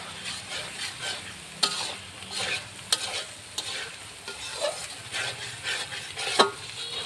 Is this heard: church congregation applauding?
no